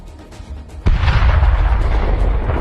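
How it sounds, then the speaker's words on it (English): A Ukrainian tank cannon fires a shot that hits a Russian tank: one sudden, loud boom, then a dense, sustained rumble that keeps going to the end. "Ukrainian tank fires a shot and hits the enemy"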